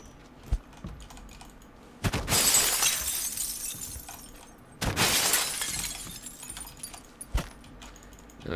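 Two loud bursts of glass shattering in the battle royale game PUBG at a military base, each a sharp crash followed by a tinkling spray of shards, the second a few seconds after the first, with soft key clicks between.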